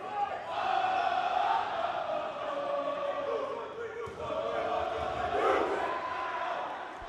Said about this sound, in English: you can hear Ohio State going into their cheer